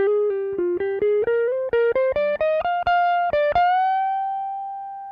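A melodic electric guitar phrase of quick, separately picked notes climbing in pitch, ending on a long sustained note that rings out alone.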